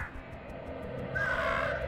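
A crow person in the Monument Valley puzzle game caws in a harsh, rising call near the end, set against a steady bed of soft game music.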